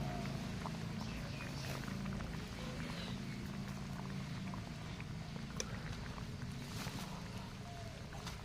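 Potatoes and chicken meat simmering in a pot make a faint, soft, continuous bubbling and hiss, heard up close and quiet throughout.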